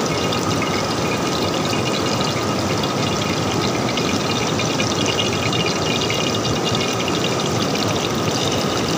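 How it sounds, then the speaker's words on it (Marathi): Oil coming to a boil in a pan while a village chicken curry is cooked outdoors in the rain, a steady loud hiss and patter running unbroken throughout with no voices. "तेल मस्त मित्रांनो उकळी यायला लागले त्याला"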